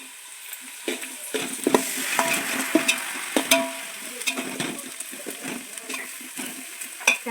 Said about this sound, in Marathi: अशा पद्धतीने कांदा आपल्याला सोनेरी रंग येईपर्यंत भाजून घ्यायचा आहे.